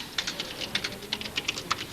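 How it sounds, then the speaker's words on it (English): A reporter types on a computer keyboard with a quick, uneven run of light, close key clicks, about a dozen taps in two seconds and no voices. "the reporter now types the story directly into a computer"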